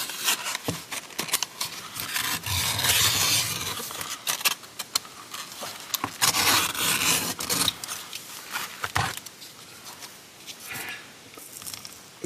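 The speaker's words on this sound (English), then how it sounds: "I think I'm going to take a razor and cut it off" A razor blade slices and scrapes at a glued-on rubber car gear selector boot, making close, irregular bursts of rasping, snipping strokes separated by short pauses.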